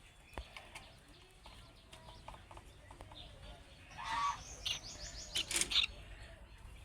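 Pet birds chirping near a nest box where a breeding pair keeps eggs: small scattered tweets, quiet at first, then brighter, louder bursts of calls in the second half over faint background noise.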